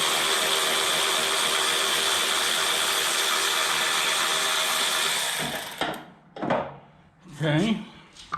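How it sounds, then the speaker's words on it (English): A ratchet on an 8mm socket removes engine cover bolts, clicking in a steady rapid run for several seconds, then stopping, followed by a few short separate bursts. "you'll need an 8mm socket to remove these cover bolts"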